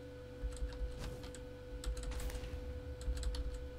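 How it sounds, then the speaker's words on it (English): Quiet close typing on a computer keyboard during a game session, with light irregular key clicks and small flurries over a steady background hum. "of course I can't fucking type"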